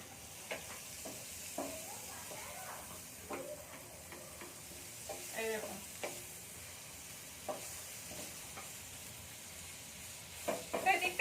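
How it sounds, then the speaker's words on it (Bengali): A snack made from wheat flour fries on a hot tawa with a soft, low sizzle. Scattered clicks and scrapes of turning the pieces break through, and a voice is heard faintly at times. "লাল লাল করে আমি ভেজে নেবো"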